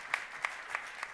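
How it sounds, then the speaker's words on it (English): Faint, evenly spaced claps, about four in a row over roughly a second, from an audience at a talk, set against a soft background hiss. "You clap."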